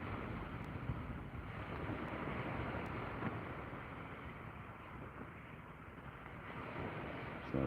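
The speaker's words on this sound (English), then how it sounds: "So the wind's quite brisk really." Brisk easterly wind buffets the microphone at sea from a fishing kayak, a steady broadband roar with water and waves beneath, continuous and fairly loud throughout with no pauses.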